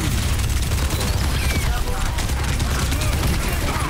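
Mauga's heavy gunfire in Overwatch 2 on the Shambali map rattles in a dense, continuous fusillade, loud and close, with a player talking over it.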